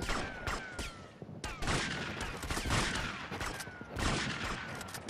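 Repeated shotgun blasts and bursts of gunfire in the GTA Vice City Definitive Edition video game, loud sharp shots spaced every second or so with a brief lull midway.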